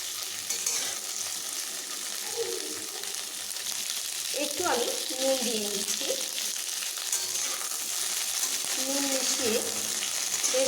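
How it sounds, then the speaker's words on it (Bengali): Yardlong beans frying in a pan, a continuous bright sizzle throughout, with someone speaking intermittently over it. "বরবটিগুলোকে আমি বেশ ভালোভাবে একটু ভেজে নেব"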